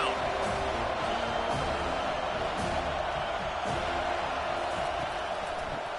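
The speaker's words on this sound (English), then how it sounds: "Decibels rising as the crowd gets behind this defense on third down." In a college football video game, a stadium crowd roars on third down during Boston College at Florida State, a dense, steady wall of cheering that fills the whole stretch, with a commentator's voice mixed in.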